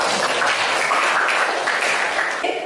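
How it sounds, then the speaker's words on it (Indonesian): Classroom applause for a student ranked first, a dense, steady burst of many hands clapping close by that fades slightly at the end. "Beri aplaus buat Mas Rasya."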